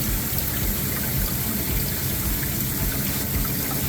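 Water pours steadily into a guppy fish tank, a continuous close splashing rush with no talking.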